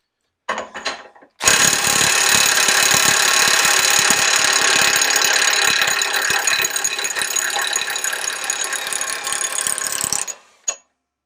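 A torque multiplier ratchets hard against a large bolt in a loud, dense metallic clatter that runs steadily for about nine seconds after a brief opening burst, then cuts off abruptly.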